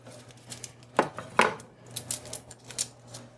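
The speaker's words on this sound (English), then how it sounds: "we are going to start with a couple of garlic cloves, which we're going to chop" Garlic cloves chopped with a knife on a board: a few sharp, close knocks, two louder strikes early followed by lighter taps, with no voice.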